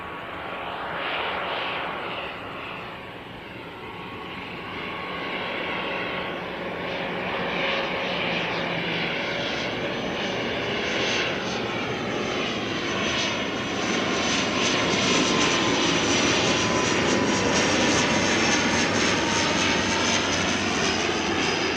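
An ATR 72-500 turboprop airliner, formerly flown by Air New Zealand, lands with a long floating touchdown, its propeller drone steady and loud, swelling slightly as it nears and rolls out, with no talk over it.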